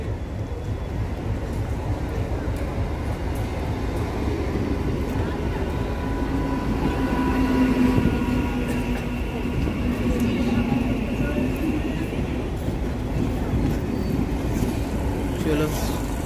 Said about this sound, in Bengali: আমার ট্রেন ঢুকছে শিয়ালদাগামী